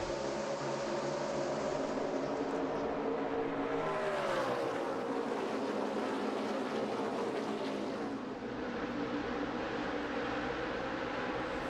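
A pack of NASCAR stock cars roars as it accelerates on a restart at Chicagoland in 2010, a loud, continuous engine drone that swells and shifts as the cars pass near.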